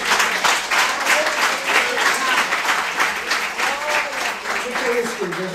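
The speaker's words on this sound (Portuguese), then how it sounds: "Uma salva de palmas ao Senhor" A church congregation applauds loudly in praise, producing a dense, steady wash of clapping that lasts the whole stretch with no pauses, while voices mingle faintly beneath it.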